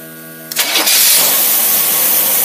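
A car engine fitted with a rebuilt Carter two-barrel carburetor cranks and catches, then settles into a loud, steady close-up running roar for the rest of the moment, with no talking.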